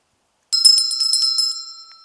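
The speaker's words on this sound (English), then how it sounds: "Coyotes hate bells." A small handheld bell, of the kind rung to scare off coyotes, jingles close and clear. Rapid strikes ring on for about a second and a half after silence, then fade with a lingering tone.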